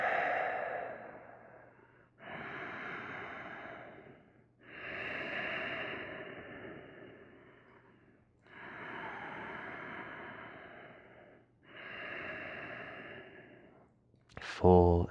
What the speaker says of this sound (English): Inhales through your nose, exhales out your nose.